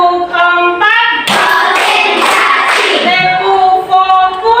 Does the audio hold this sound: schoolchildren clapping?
yes